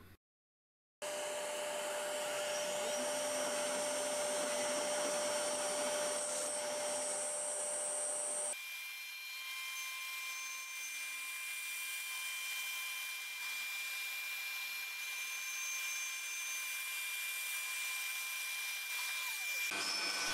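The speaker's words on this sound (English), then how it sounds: "Now we change the tool to a 3 millimeter end mill and create a slot for the large O-ring." Steady, close whine of a CNC spindle cutting a slot for an O-ring with a 3 mm end mill in a vacuum clamping pad, holding a constant high tone that shifts to a lighter pitch partway through, with no voices.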